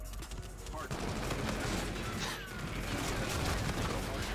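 Rapid gunfire in a video game, dense and continuous bursts over a noisy game mix, with faint voices underneath.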